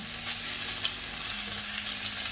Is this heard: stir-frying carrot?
yes